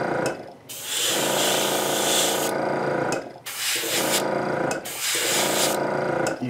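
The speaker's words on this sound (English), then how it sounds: "I'll do a quick sanding on the seam, on the flash" Sandpaper worked over a seam on a plastic model kit of a Revell Ford F-100 pickup, giving a close, loud, continuous scratchy rasping in three long strokes with short pauses between them.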